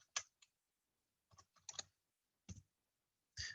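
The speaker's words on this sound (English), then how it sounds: "So I type in back pain." Several sharp key clicks on a computer keyboard, typed in short irregular bursts with pauses between, close and fairly quiet with no voice.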